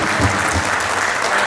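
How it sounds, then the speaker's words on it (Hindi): An audience at a distributor conference in Karnal claps together in a dense, loud burst of applause, sustained and close, with no talk over it. "थोड़ी ताली जोड़ के बजाएं"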